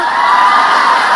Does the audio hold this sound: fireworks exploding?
no